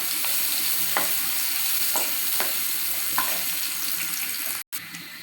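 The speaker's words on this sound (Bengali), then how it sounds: "এবার আমি পেঁয়াজ কুচিগুলো দিয়ে দিব।" Chopped onions frying in a pan for a country-duck kala bhuna curry: a continuous close hiss of hot oil with a few sharp clinks of a utensil against the pan, and no talking.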